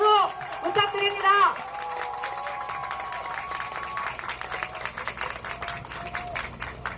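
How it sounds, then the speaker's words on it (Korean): An audience at a Seoul mayoral campaign policy announcement applauds a disability association group; a brief voice opens, then scattered, moderately loud clapping carries on steadily to the end. "힘찬 박수 부탁드립니다."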